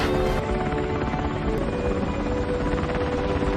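A helicopter in a cliffside rescue scene, its steady rotor and engine roar filling the whole stretch at close, loud, unbroken level with no voices.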